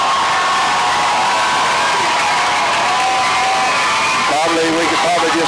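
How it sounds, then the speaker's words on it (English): Home crowd at the Robinson high school football field roaring and cheering steadily, loud and dense, with shouts and whoops swelling near the end and a voice talking over the noise. "let you listen to the Robinson crowd"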